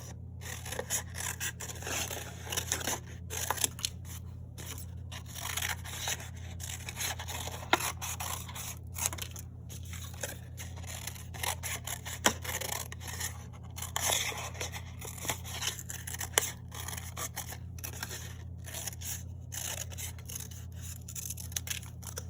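Scissors snip through stencil paper while cutting out the head, tail and wings for a paper plate dragon craft, a steady run of close, light scraping cuts over a low background hum.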